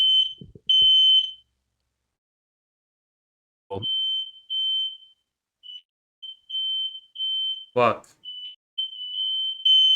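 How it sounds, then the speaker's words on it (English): A home smoke alarm in a kitchen emits a high, steady electronic beep in long tones and short repeated chirps, with a brief muttered voice and a short burst of nearby speech breaking in. "His fire alarm's going off, guys, so I just muted it."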